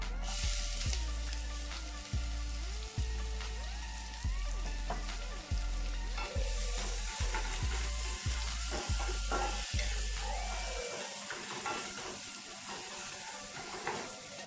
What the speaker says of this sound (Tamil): இப்போ நம்ம வச்சுருக்க ஸ்பைசஸ் போட்டுடலாம். ஜீரகம், கிராம்பு, பட்டை, அதே மாதிரி பொடியை கட் பண்ணி வச்சுருக்க வெங்காயத்தையும் போட்டுடலாம்.